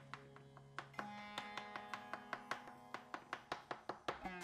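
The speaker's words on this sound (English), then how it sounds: "And then just chop it up because it's already all mushy and lovely and roasted and beautiful" A knife chops soft roasted aubergine on a board in about fifteen crisp, evenly spaced strikes that settle into a steady rhythm, close to the listener and with no talking.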